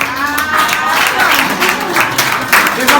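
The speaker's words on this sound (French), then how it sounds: "Des applaudissements, les gars," Applause at a graduation-thesis dedication ceremony, a steady wash of crowd clapping sustained throughout, with voices talking and calling out over it.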